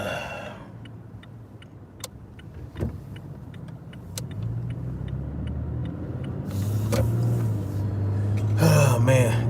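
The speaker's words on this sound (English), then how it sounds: "What's up with this fucking traffic today, man?" Steady road traffic hum from cars moving in slow, congested traffic, a continuous low rumble that swells toward the end, with intermittent ticking clicks on top and a voice speaking over it.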